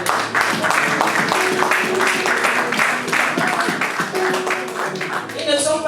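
A church congregation at an evangelical service breaks into sustained applause, a dense, steady wash of clapping that continues for several seconds while a voice speaks over it.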